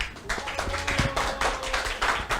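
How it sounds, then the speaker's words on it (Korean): An audience at a Korean user conference applauds to welcome a speaker: fairly quiet, dense clapping runs steadily for a couple of seconds with no voices over it. "큰 박수로 환영 부탁드립니다"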